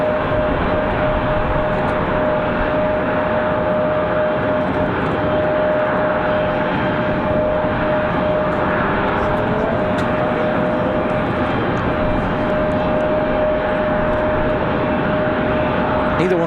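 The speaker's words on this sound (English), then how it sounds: "couple of exec jets about to touch down" A pair of business jets on final approach to land at Raleigh-Durham airport give off a loud, continuous jet engine roar with a steady high whine running through it, broad and unbroken for the whole stretch.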